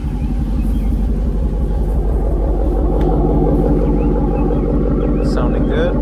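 Jeep Grand Cherokee SRT with an aftermarket AWE Touring exhaust idling close by, a steady deep, throbbing rumble that holds level for the whole stretch.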